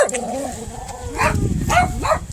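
Dogs in the large pen at a Young State Park campground let out a few short barks and whines, with a growl rising beneath, close by and moderately loud amid outdoor background noise.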